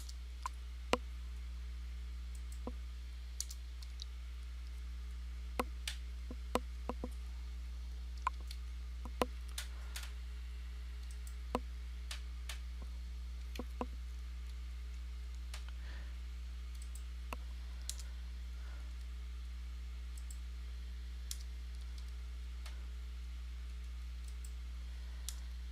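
Faint, scattered clicks of typing on a computer keyboard, irregular single key taps spread over a long stretch above a steady low electrical hum, with no talk.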